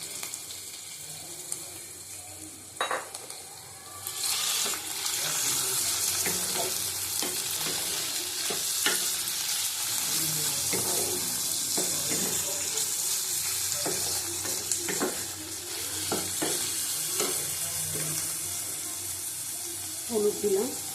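Chicken mince frying in a pan for egg chicken tadka, a steady broad sizzle running close and loud, with occasional stirring clatter and a faint voice near the start.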